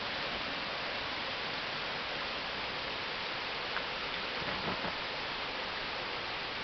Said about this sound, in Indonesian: Tapi nampaknya hujan kali ini tidak merata ya, di sana masih terang